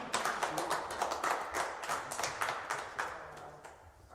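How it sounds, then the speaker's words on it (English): Audience applause at a public statement event, a brief round of irregular claps from a modest group, fairly faint and quick, tapering off near the end without talk. "we can clap for her"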